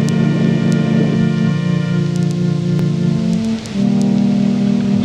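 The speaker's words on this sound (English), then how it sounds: "See, the rain is nice," Steady rain falls close by as a continuous hiss, with a sustained tonal hum running underneath and a brief dip near the end.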